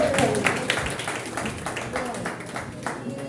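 A church congregation claps in praise of Jesus, a loose rhythmic clapping heard under a speaking voice, moderately loud and sustained throughout.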